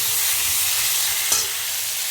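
Continuous sizzling of vegetables and pre-fried potatoes frying in a pan, with a faint scrape of stirring midway, no voices.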